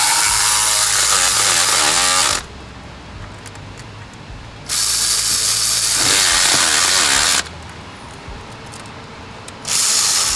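A ratchet tightens the bolts on a 2013 Volkswagen Beetle water pump, in three loud bursts of rapid clicking separated by short quiet pauses, close to the listener.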